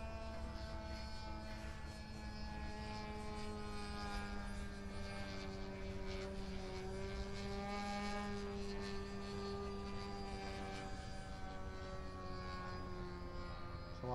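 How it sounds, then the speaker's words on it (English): A radio-controlled model plane at a flying field drones overhead, its propeller giving a steady, even buzz that holds without break and shifts slowly in pitch as it passes. "I have to re-remember how to land a floaty plane."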